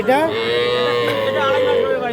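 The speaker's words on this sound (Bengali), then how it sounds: "দুটো বেশ সুন্দর সাইজের ক্রস ফ্রিজিয়ান জাতের ষাঁড় বাচ্চা দেখছিলাম" A cross Friesian bull calf at a cattle market gives one long, loud, drawn-out moo close by, holding steady for about two seconds with no talking over it.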